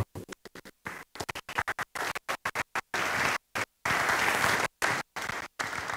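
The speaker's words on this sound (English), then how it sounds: "please give a round of applause for Abiodun Famojiro" Audience at a panel session applauding the moderator in short, choppy bursts of clapping that stop and start, then settle into longer stretches of steady applause.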